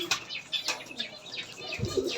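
Soft, low cooing from a pigeon sitting on eggs comes in short bursts near the end, with faint chirps and light rustling earlier; quiet and close.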